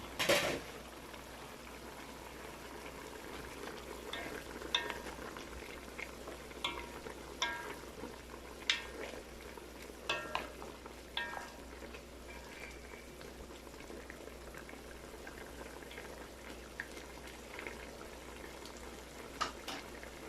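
Spicy pork adobo with chili peppers simmering in an open pot, giving a steady low bubbling and faint sizzle with scattered small pops and ticks throughout, close and fairly quiet, with no talking.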